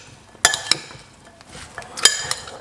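A spoon stirs and mixes beetroot, ginger and lemon juice ingredients in a kitchen, giving a few bright clinks of metal against a dish over a soft, quiet stirring background.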